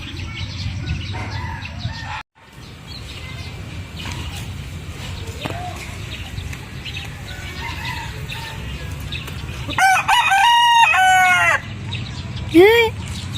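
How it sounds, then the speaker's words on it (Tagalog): A rooster crows twice in the background of a home, with a drawn-out call near the end, amid ongoing family chatter and light household noise. "Ay, Rooster."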